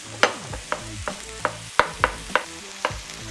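Onions and garlic fry in a pan while being stirred, with a soft sizzle under sharp spatula scrapes and taps that come about every half second. The sound is close and moderate, with no talking.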